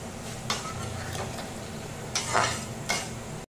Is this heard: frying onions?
yes